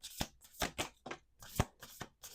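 Oracle cards being shuffled by hand, a quick run of seven or eight soft papery riffles and slaps in an uneven rhythm, close and fairly quiet with no talking.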